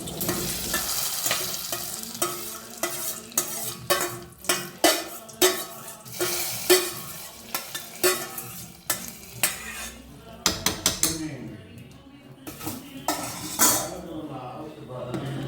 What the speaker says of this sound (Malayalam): നമ്മുടെ കറിക്കകത്തോട്ട് നമുക്ക് ഈ വറവ് ചേർത്ത് കൊടുക്കാം.